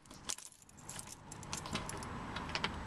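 Keys jangle and clink as a garage door cable release key is handled, a few sharp metallic rattles up close over a low background rumble.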